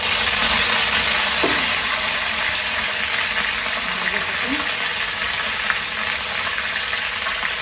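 Curry leaves hit hot oil in a pan for an okra curry, giving a steady, close broadband sizzle and hiss that holds evenly throughout.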